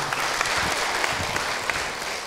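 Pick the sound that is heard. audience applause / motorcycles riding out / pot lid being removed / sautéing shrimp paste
audience applause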